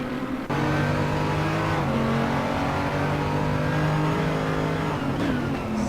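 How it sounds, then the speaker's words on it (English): A Mercedes-Benz race car engine in Assetto Corsa at Brands Hatch revs hard and steady up close, holding a strong buzzing tone through upshifts, with a brief rise in pitch near the end. "Mercedes Benz sounding absolutely fantastic."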